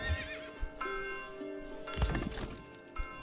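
A horse in the medieval strategy game Manor Lords lets out a clear, ringing whinny and a second shorter neigh, with soft clip-clop hoof thuds around them. No voices.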